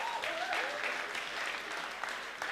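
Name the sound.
wedding guests applauding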